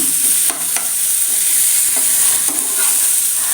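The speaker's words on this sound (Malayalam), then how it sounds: "അരച്ചെടുത്ത മിക്സ് ഇല്ലേ അത് ഇതിലേക്ക് ചേർത്ത് ഒന്ന് വഴറ്റിയെടുക്കാം ലോ ഫ്ലെയിമിൽ വെക്കണം" A roasted, ground spice mix is sautéed in a pan over low flame, a steady loud sizzle with occasional scraping stirs of a spoon throughout.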